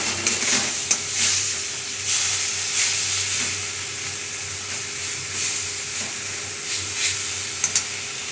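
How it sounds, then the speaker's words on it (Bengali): Raw bean paste sizzles steadily in a pan, a soft continuous hiss with occasional small pops and spatters, moderately quiet under a faint low hum. "এটাকে ভালো করে ভেজে নেব।"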